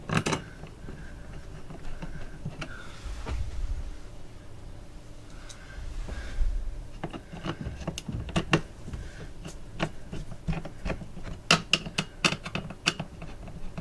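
Two screws driven back into the lift mechanism of an RV crank-up roof vent lid, heard as close, sharp mechanical clicks and ticks with scraping and handling noise, the clicks growing denser toward the end.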